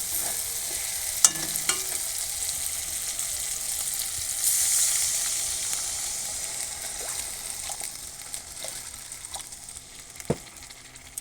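Fried spice masala sizzles steadily in a pan after a little water goes in. The hiss is bright and continuous, with occasional clicks of stirring.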